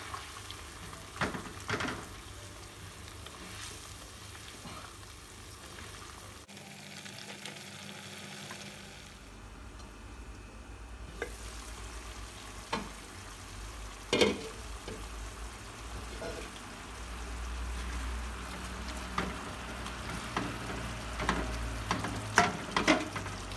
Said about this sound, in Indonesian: Kalau airnya sudah mendidih, masukkan rempela dan ati. Lalu dimasak sampai airnya berkurang.